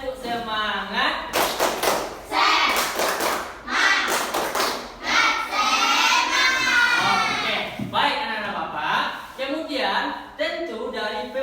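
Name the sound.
students doing rhythmic spirit clapping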